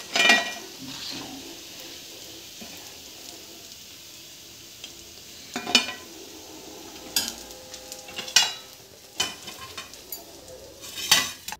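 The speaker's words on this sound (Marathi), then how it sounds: "आपल्या भाकरवडी तळून झालेली आहे, तर आपण काढून घेऊ आता" Fried bhakarwadi being lifted out of hot oil, a low oil sizzle running throughout while a utensil clinks sharply against the pan a few times, mostly in the second half, with no speech.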